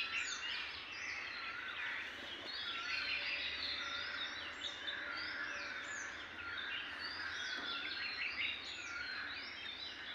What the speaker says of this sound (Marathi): आणि बाकी इतर पक्ष्यांचे आवाज आपल्याला येत आहेत.